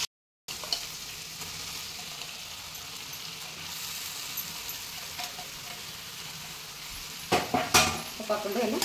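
Leafy greens frying in a pan for a village-style Kannada palya, a soft continuous sizzle with light stirring, then a few louder metallic scrapes of a spoon near the end.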